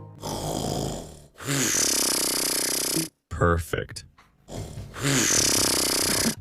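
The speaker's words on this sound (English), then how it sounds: "Let's make him snore." A polar bear snores loudly in a winter biome in a video game, with long harsh rasping breaths in a slow rhythm. A voice speaks briefly between snores.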